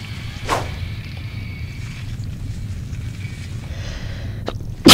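A single sharp sneeze from a person playing a video game, close and brief near the start, followed by quiet room noise and a loud thump at the very end.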